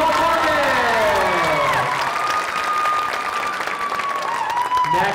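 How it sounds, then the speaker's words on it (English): Applause fills a school talent show auditorium, a dense continuous wash of clapping from the audience that slowly thins, with an emcee's voice and music tones sounding over it. "Let's give them a round of applause"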